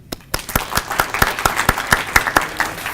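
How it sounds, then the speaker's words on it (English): Audience applause at a community conversation event: sparse, distinct claps from a small group, close and fairly loud, steady rhythm for a few seconds with no talk. "Applause for them."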